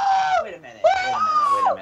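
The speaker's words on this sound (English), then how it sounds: "I'm sorry that you have to hear this kid scream like that." A child screaming loudly in high, wavering wails amid a live wrestling watch reaction, two sustained shrieks with a short break between, close and dominating.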